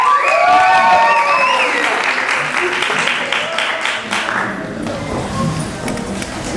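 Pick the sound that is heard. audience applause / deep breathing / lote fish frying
audience applause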